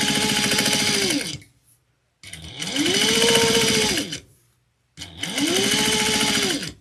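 A sewing machine stitches a zippered bag in three loud, close bursts of rapid mechanical whirring and clatter, each ramping up and slowing down, separated by short pauses.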